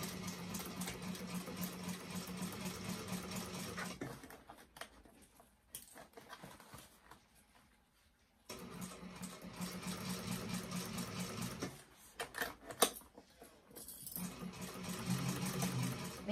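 A sewing machine runs in steady bursts while stitching the seams of a fabric bag, the motor humming in two long runs broken by a quiet pause, with a few short clicks and handling noises near the end.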